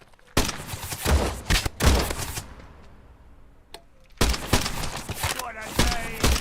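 Rapid bursts of gunfire in a shooter video game called Pioner, where enemies carry pump-action shotguns: two dense volleys of loud close shots, a quieter gap with a lone report, then another sustained barrage to the end.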